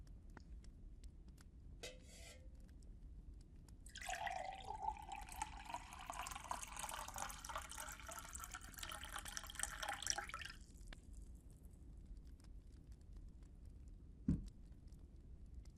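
Water is fetched and poured as a faint, close trickle lasting several seconds, set apart by quiet drips and small clinks before and after, with no voices.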